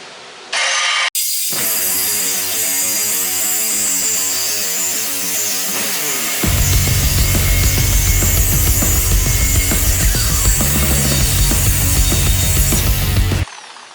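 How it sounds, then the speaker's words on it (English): A power saw cuts through angle iron welded to a 1973 K10 bumper: a loud, sustained metallic whine that drops into a harsher, heavier grinding tone midway, then stops abruptly. "So cut it wherever so that we can get the bumper off of here."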